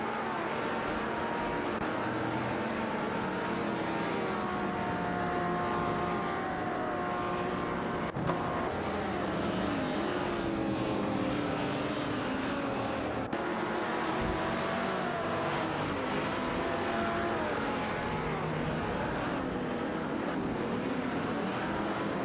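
Race cars in an AI racing video game, a Ferrari slipstreaming down the straight, their engines droning and whining steadily with shifting pitch sweeps and two sharp transient clicks, no talk heard.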